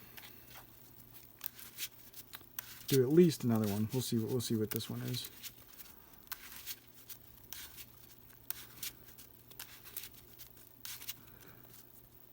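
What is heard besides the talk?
shuffling a Yu-Gi-Oh card deck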